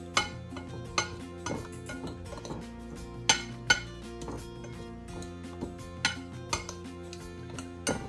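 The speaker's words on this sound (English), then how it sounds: "I'm going to mix my dry ingredients up" Dry sourdough biscuit ingredients, flour and sugar, being mixed in a bowl, with a steady run of sharp clinks and taps as a utensil strikes the bowl, close and moderately quiet with no talking.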